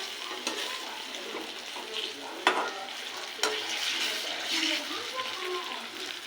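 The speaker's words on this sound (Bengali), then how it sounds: "তো ভালো করে ভেজে নিতে হবে, লেগে গেলেও অসুবিধা হবে না, আস্তে আস্তে উঠে যাবে।" Water lily flower fritters frying in oil in a pan, a continuous close crackling sizzle with a few sharp utensil clicks and scrapes.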